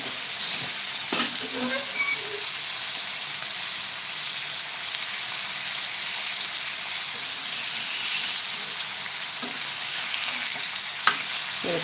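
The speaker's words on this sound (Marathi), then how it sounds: "बोंबील फ्राय करायला पटकन बोंबील असे फ्राय होतात ते बघू शकता तुम्ही" Bombil, Bombay duck fish, fries in a pan over high flame, a loud, continuous close sizzle and hiss with a couple of brief clinks.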